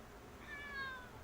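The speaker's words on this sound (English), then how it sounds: "My cat just entered the room." A house cat lets out a single short, quiet meow, a thin call rising and falling over faint room background.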